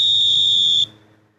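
A single shrill, steady whistle blast, close and loud, lasting under a second before cutting off into quiet room noise.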